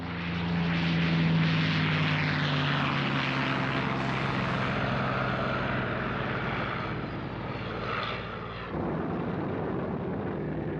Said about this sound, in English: His B-29s now had the benefit of long-range escort fighters,